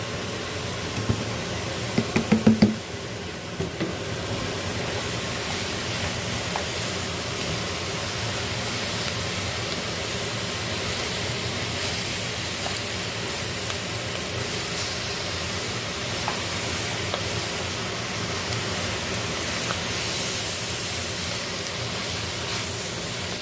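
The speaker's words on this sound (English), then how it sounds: "next we're going to want to throw in our mushrooms" Mushrooms tossed into a pot for a keto pot roast sizzle with a steady, even hiss, with a short burst of clattering near the start and no talking.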